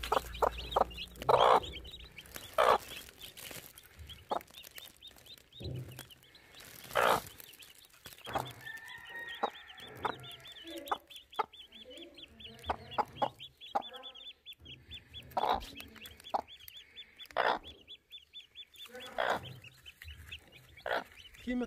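Newly hatched chicks peep and a hen clucks on a rural farm, with repeated short calls and bursts of clucking close by throughout, amid occasional louder fowl noises.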